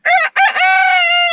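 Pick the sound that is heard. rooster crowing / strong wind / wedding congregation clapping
rooster crowing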